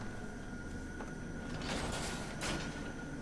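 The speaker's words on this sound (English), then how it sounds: "There's an adept door with a switch behind it." A dungeon door opening in Skyrim Special Edition, heard as a low mechanical rumble with two airy sliding sweeps, fairly faint against a steady background hum.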